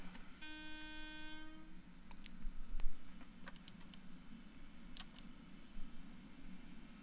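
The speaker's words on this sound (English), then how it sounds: "that was the train I could hear" A distant train horn sounds a long steady tone at the start, over a low rumbling rail drone, with scattered ticking and clicking throughout, from Train Simulator 2017.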